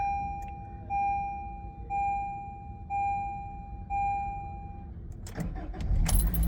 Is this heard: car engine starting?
yes